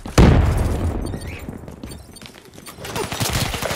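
Gunfire in a Call of Duty Black Ops 3 multiplayer match: a loud opening blast followed by a scatter of shots and rattling bursts, with a busier volley near the end.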